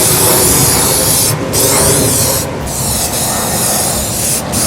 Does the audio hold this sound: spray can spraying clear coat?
yes